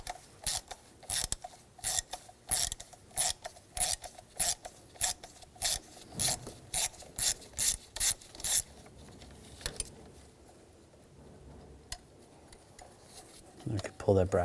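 A ratchet with a T30 socket turns a bracket bolt on a 2007-2013 BMW X5 3.0L inline-six, a series of quick, close clicking strokes in regular bursts that stop partway, followed by quieter handling noises.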